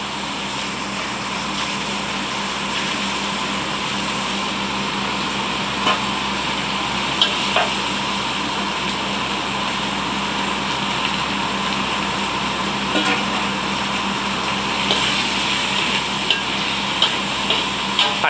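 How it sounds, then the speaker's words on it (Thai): Tomatoes are stir-fried with green curry paste in hot oil for a Thai green curry, making a steady, moderate sizzle broken by occasional clicks and scrapes of the spatula. No one speaks. "ผัดมะเขือเทศเนาะกับพริกแกง"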